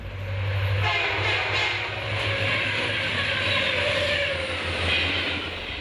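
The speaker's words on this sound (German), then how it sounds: "Mittlerweile durchfährt unser Zug die Marschlandschaft im Grenzgebiet von New Brunswick und Nova Scotia." The Ocean passenger train runs through marshland on the New Brunswick–Nova Scotia border. Its loud, continuous rumble and low mechanical drone carry faint rhythmic rattling, with no talking.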